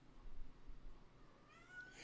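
A cat lets out a rising meow near the end, faint and brief, after a stretch of quiet low background noise.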